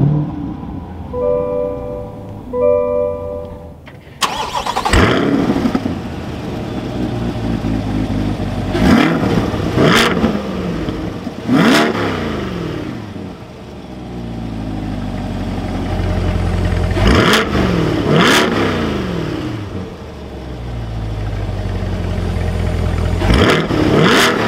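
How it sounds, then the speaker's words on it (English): A 2022 Chevrolet Corvette Stingray 2LT Z51 cranks and fires up, settling into a loud, close idle punctuated by several sharp revs that rise and fall. "keeping my foot on the brake, we can go ahead and fire it up"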